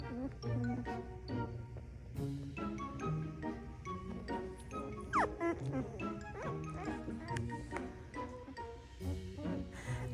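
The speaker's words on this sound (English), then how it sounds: "These are the cutest puppies." A litter of puppies born to a rescued mother dog whimpers and yips in high, overlapping cries close by, with a few short barks scattered through the continuous squealing.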